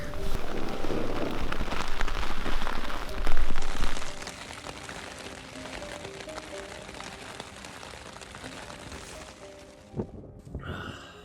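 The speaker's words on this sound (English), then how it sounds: "It rained pretty much all the way through" Rain drumming on a tent overnight in the Black Mountains, UK: a dense, steady patter of drops on fabric, heavier at first and then easing to a softer continuous hiss, with a few louder knocks near the end.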